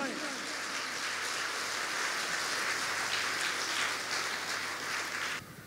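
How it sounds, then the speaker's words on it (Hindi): A church congregation claps loudly and steadily, a dense, continuous roar of hands at worship that holds for several seconds before tapering off abruptly at the end. "जोर से ताली बजाएं।"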